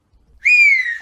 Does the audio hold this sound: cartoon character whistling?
yes